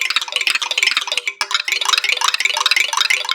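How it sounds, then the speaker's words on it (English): Tank plank played on the inside with a mallet, a rapid, dense flurry of bright metallic hits that blur into a continuous shimmering rattle with brief dips, loud and close. "So this is the tank plank."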